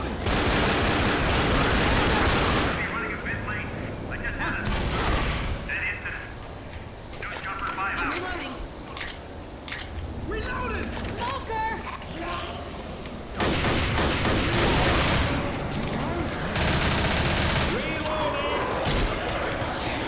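Heavy gunfire in the zombie shooter Left 4 Dead, with bursts of automatic weapons and single shots rattling over a dense game mix while players talk throughout.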